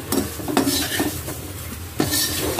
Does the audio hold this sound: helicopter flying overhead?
no